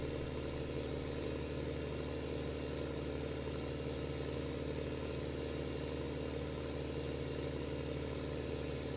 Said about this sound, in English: this is probably the oldest tractor on the farm right now